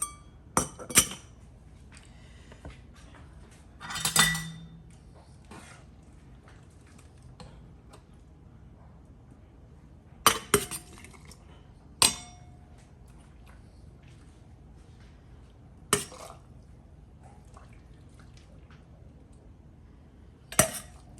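Chopstick tapping and scraping inside filled canning jars of pickled peppers, sparse sharp clicks and knocks scattered over quiet gaps, with a brief cluster of clinks near the start.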